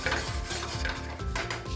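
Linguiça sausage dropped into hot oil with melting butter and garlic in a pan, giving a steady close sizzle and frying crackle with scraping stir and pan clatter throughout.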